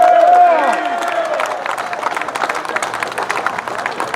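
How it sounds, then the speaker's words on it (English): A crowd at an outdoor hemp legalization rally breaks into loud, sustained clapping and cheering for a speaker, with a sharp whistle at the start and the applause gradually settling into a steady patter. "One more round of applause for Stephen."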